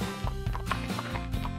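Cartoon horse hooves clip-clop at a steady trotting rhythm, close and fairly loud, running continuously through the short stretch with a faint voice-like layer underneath.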